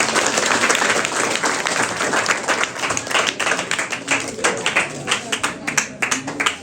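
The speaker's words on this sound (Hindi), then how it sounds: "तो जोरदार ताली से स्वागत करेंगे" An audience at a children's Rajyoga meditation gathering in Nepal welcomes a speaker with loud, dense clapping that fades into scattered, uneven claps near the end.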